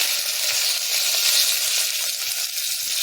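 Cumin, garlic and curry leaves frying in hot oil in a pan, giving a steady, close, bright sizzling hiss that continues without a break.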